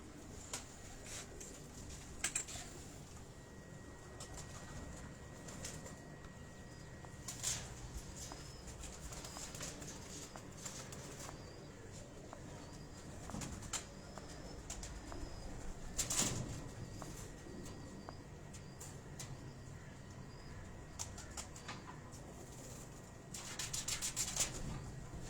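Ferozpuri pigeons coo softly in a loft, with occasional wing flaps and brief rustling bursts, low and fairly distant over a steady background hum.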